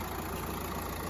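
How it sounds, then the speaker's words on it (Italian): Mercedes B180 engine idling in the open engine bay, a quiet, even low hum with a steady mid-range whir, faint and uniform throughout the short moment. "motore perfettamente silenzioso e ben in linea, equilibrato"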